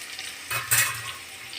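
Bitter gourd pieces fry in a pan for pickle, a sizzling hiss that swells briefly as they are stirred, then settles back to a softer crackle.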